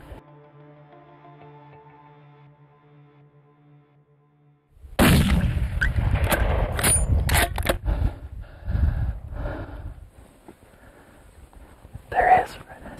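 A rifle shot fired at an Arapawa ram during a hunt: a sharp, loud report bursts out of near silence, followed by echoing rumble and quieter scraping and handling sounds as the hunters move about.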